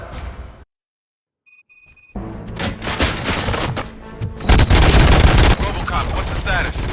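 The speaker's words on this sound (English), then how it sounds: "Gunshots? What's going on?" Gunfire in the RoboCop: Rogue City video game. A short electronic tone follows a moment of silence, then dense, loud shooting bursts build up and continue, with game voices mixed in.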